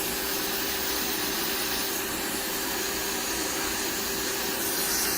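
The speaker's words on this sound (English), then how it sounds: "So I'm just going to grind this down a little." Electric grinder filing down a very thick callus on a foot, a steady, loud, continuous whirring hiss with a constant tone running without a break for the whole stretch.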